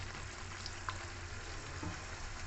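A raw mango and jaggery pickle simmers in a pan as vinegar goes in, leaving a faint, steady bubbling sizzle with a soft clink partway through.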